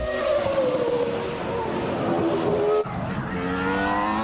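A 1998 Sauber C17 Formula One car on its first roll-out at the Fiorano test track gives a loud, sustained high-revving engine whine, holding steady before a sharp break and gear change near the end, then pulling hard again.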